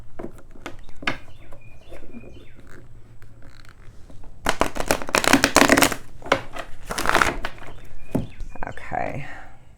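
Cards riffle and slap together in a brisk shuffle, close by, with a few faint clicks and light rustling before and after.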